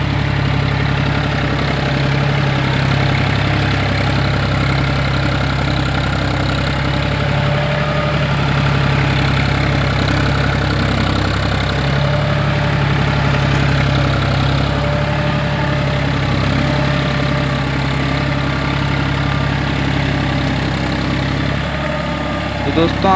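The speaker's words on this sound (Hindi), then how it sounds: "आप देख सकते हैं अभी फिर से आ रहा है अपना जॉन डियर" A John Deere 5045 4WD tractor pulling a cultivator through a wet field runs with a constant, loud low engine drone and vibration for the entire span, with a voice talking over it.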